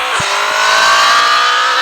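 A Formula 1 car in a video game accelerates hard out of the pit lane, a loud, steady high-pitched engine whine rising slightly, with a couple of brief low thumps near the start.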